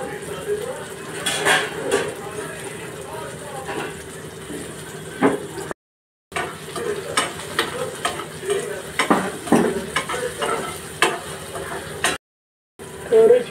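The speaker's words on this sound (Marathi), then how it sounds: "टोमॅटो छान नरम होईपर्यंत परतून घेते। 2 हिरव्या मिरच्या टाकते" Tomatoes and green chillies sauté in a pan with a steady sizzle, broken by the clinks and scrapes of a stirring spoon against the pan. The sound cuts out briefly twice.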